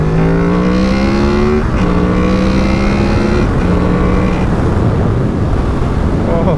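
2018 Honda VFR800 motorcycle's VTEC engine revs up and down through several rising pulls, loud and close with a buzzing exhaust note and wind noise on the microphone.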